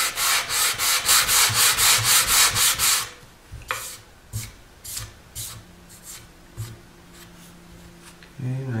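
Hand sanding of a figured maple guitar top, with fast rhythmic back-and-forth rubbing strokes for the first three seconds, then slower, sparser scrapes close to the listener.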